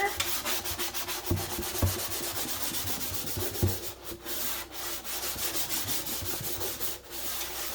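Cloth rubs conditioner steadily back and forth into vintage wooden furniture, a continuous close scrubbing rasp with a few brief knocks and no talking.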